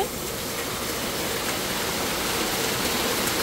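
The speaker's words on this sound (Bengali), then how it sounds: "কত বৃষ্টি হইতেছে।" Heavy rain pours down in a dense, unbroken hiss that stays loud and steady throughout.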